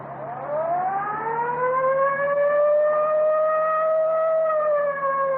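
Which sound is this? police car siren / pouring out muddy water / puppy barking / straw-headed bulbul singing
police car siren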